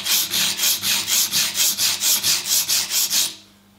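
A Spyderco Endura 4 folding knife blade is drawn back and forth across a sharpening stone in a brisk, even rhythm of about fourteen close, rasping strokes before it stops.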